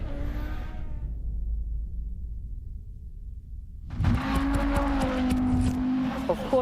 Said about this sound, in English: it's the noise of the Quattro